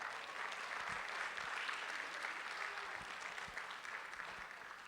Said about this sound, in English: I would like you all to give each other, each of your partners, a big round of applause